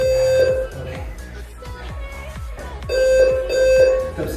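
Electronic workout-timer beeps sound in short repeated pulses, loud and close, signalling the switch to a plank during a strength-training session, with someone speaking briefly between them.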